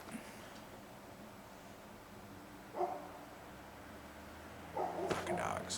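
Dogs bark outside at night in short, faint bursts against a quiet background hiss, one brief burst in the middle and a longer flurry near the end, distant and muffled.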